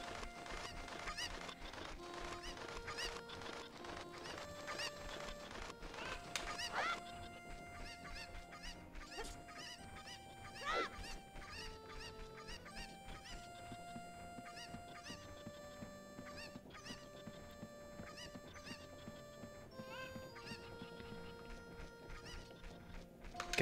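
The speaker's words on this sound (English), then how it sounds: "But at least I can get this chicken." Chickens clucking and squawking in the Nintendo game Ocarina of Time, a steady run of bird calls over continuous game music.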